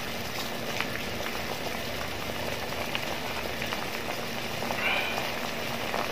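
Crab and banana blossom simmering in coconut milk in a pot, a steady soft bubbling and sizzling hiss that runs evenly throughout with no talk.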